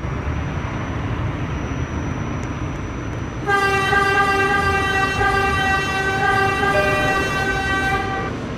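A subway train on the Subtransport line 7 rumbles steadily, then a loud sustained horn-like tone sounds and holds for several seconds over the rolling noise at the last stop.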